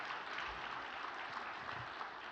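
A room of worshippers at a vigil prayer service gives a round of thanks, a dense, steady applause of many hands clapping continuously from start to finish.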